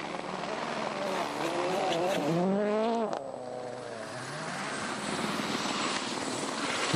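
A rally car stuck in a ditch at the Rally of Sweden 2014 revs its engine hard while trying to reverse, the roar rising and falling in loud sweeps beneath steady background commentary noise.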